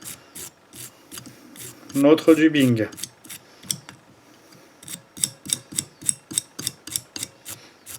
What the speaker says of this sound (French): On prend une brosse, là j'ai une vieille brosse à dents moi, hein. Une brosse et on vient tout simplement ébouriffer